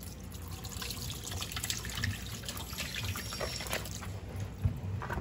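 Cilantro rinsed under a running kitchen tap for sofrito, a continuous close splash of water with small drips and handling noises.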